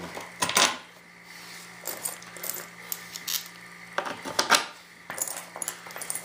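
Metal bolts rattle and clink as hands dig through an old box of them, giving bursts of jangling, clattering metal with quieter gaps between, close and moderately loud.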